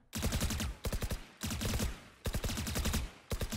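Phantom rifle spray fire in Valorant: rapid automatic bursts of shots in four or five tight strings separated by short pauses, loud, close and crisp, with no talk.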